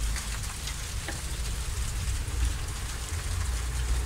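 Steady rain falls outside a house during a thunderstorm, a dense, even hiss of drops on surfaces continuing throughout without pause.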